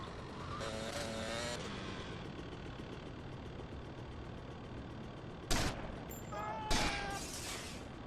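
Two sharp gunshots in GTA Vice City ring out a second apart over a steady car engine hum, with a brief voice early on.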